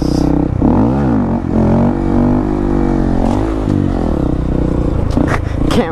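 Honda Grom motorcycle engine revving hard during a wheelie attempt, close and loud, with rising and falling rev sweeps, a brief dip, then more throttle blips and some rattling.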